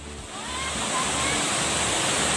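A steady, full rush of falling water roars continuously, close and loud, with no breaks, at Wang Kan Lueang waterfall in Lopburi, Thailand.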